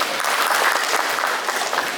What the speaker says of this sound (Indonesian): Masuk tepuk tangan nih.